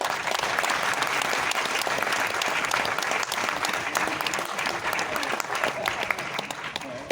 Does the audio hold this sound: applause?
yes